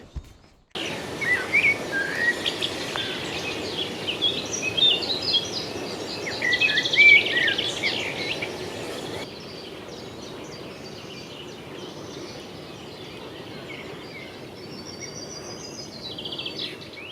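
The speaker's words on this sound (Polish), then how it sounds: "Pięknie siedzimy, ptaszki śpiewają" Several birds chirp and sing in bright, scattered phrases by a lake in the morning, over a soft steady outdoor hush, later thinning to occasional distant calls.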